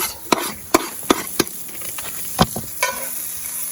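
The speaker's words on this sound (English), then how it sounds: "Frying up some shallots." Shallots sizzle in a pan at an outdoor campfire under sharp, irregular scraping and clicking as they are stirred, close by, with a steady frying hiss underneath.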